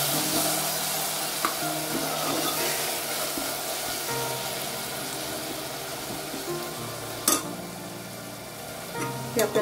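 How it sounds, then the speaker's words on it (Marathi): Garlic ginger paste fries in a pan with onion for chicken yakhni pulao, a constant close sizzle broken near the end by a few sharp utensil knocks against the pan. "लसूण अद्रकाची पेस्ट टाकली आहे आणि लसणाचा जो कच्चेपण आहे ते जाईस करून छान याला होऊ देणार आहे."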